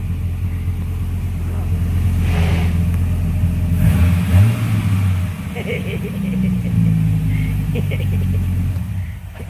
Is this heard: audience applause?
no